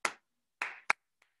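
Hands clap a short rhythm pattern alone in a quiet room: three crisp claps, the last two close together, then one faint soft tap.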